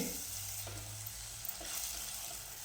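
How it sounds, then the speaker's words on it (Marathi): Roasted coconut paste sautés in oil in a pan, a soft continuous sizzle with light stirring sounds, fairly quiet and unbroken. "तेल सुटेपर्यंत हे वाटण चांगलं परतून घेऊ"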